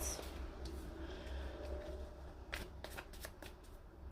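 Tarot cards are shuffled by hand nearby, a soft riffling texture that gives way to several crisp snaps and flicks of cards being handled.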